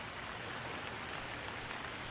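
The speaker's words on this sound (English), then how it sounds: "it's turning night time and it's still raining" Rain falls steadily in the survival game Stranded Deep, an even hiss of drops on an island at nightfall, faint and unbroken, with no other sounds.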